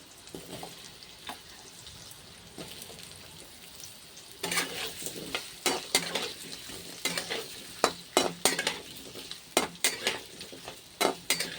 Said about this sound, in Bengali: চলো এবার আলুটা ভেজে নিই ভালো করে।